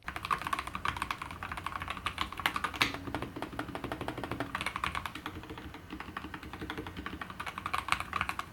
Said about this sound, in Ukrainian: Mantec MK87DR це клавіатура, яка поєднує в собі стильний дизайн, продумані функції та надійні характеристики